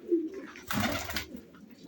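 Racing pigeons near their loft, with a brief close coo followed by a burst of wing flapping.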